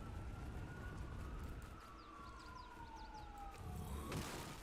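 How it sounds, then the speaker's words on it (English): Emergency sirens, fire engine and ambulance, wail at a distance as a long gliding tone over steady background rumble, with a sharper burst near the end. "That's a lot of fire and ambulance."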